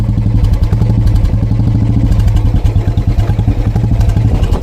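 A Royal Enfield Bullet motorcycle engine thumps steadily at idle, a loud, close, evenly pulsing chug with a mechanical clatter, running alone throughout.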